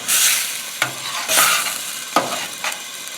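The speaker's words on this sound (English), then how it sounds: "Now, we'll just let it simmer for about 10-15 minutes." A venison heart cooks in a pan with a bright, close sizzle that swells in bursts, broken by a few sharp taps of a utensil against the pan.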